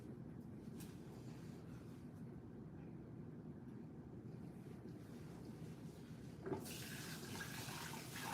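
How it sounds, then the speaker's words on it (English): Tap water running steadily as a butter dish is washed under it, a soft continuous rushing wash, fairly faint, with a slight rise in splashing toward the end and no talking. "I'm washing the butter dish so I can add some butter on here."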